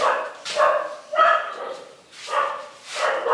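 A small female dog barks sharply several times in quick, irregular bursts, close and fairly loud, with brief pauses between the yips.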